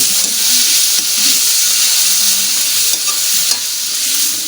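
Kangkong (water spinach) sizzles and hisses steadily in a hot pan, with faint stirring scrapes, close and loud throughout.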